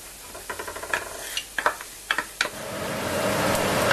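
Onions for a Spanish tortilla dropped into a hot pan, a run of sharp clicks and clatters followed by a rising, steady sizzle that settles into continuous frying.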